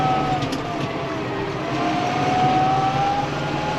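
A tractor drives and turns around in a hay field, a steady engine drone with a faint whining tone, continuous and fairly loud throughout.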